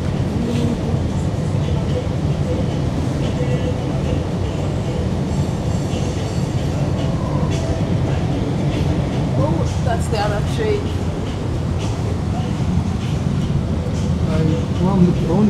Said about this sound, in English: That's the other train.